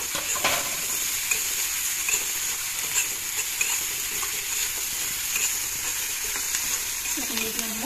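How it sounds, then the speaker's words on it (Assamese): Potato pieces fry with ginger-garlic paste in hot oil, a loud continuous sizzle close by with occasional stirring scrapes and clinks throughout. "এইখিনি আলু দি অলপ ৰংচঙা হ'বলৈ দি ইয়াতে আদা নহৰু পেষ্টটো একেলগে দি দিলোঁ"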